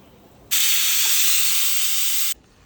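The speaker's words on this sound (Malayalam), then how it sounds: "ഇതാ കുക്കർ തുറക്കുകയായി" A loud, sharp hiss of steam bursts abruptly from a pressure cooker, holds steady for about two seconds, then cuts off, with quiet background before and after.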